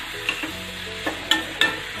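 A spoon stirs radish and green chili pickle cooking in a pan, several distinct scraping clinks over a soft sizzle, close and moderately loud, with no talk.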